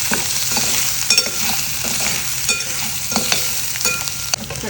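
Capsicum dusted with turmeric frying in a pan gives a steady, close sizzle, broken by scraping stirs and small clicks throughout, with no voices.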